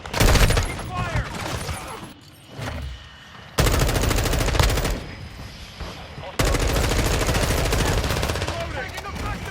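Dense rapid gunfire from a military shooter video game on PS5, loud bursts of automatic fire in long stretches broken by short quieter gaps, with game voice callouts mixed in.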